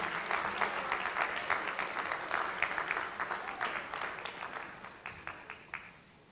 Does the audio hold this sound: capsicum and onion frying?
no